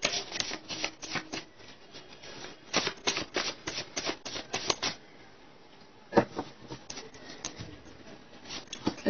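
Tarot cards are shuffled by hand in repeated quick riffling bursts, close and crisp, pausing briefly in the middle before the shuffling resumes.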